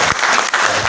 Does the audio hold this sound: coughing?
no